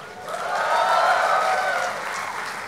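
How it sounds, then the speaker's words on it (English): A graduating audience at the ISB Class of 2013 valedictory ceremony breaks into sustained applause that swells to a dense wash of clapping and then eases slightly, with no voices over it. "So, an applause for yourselves."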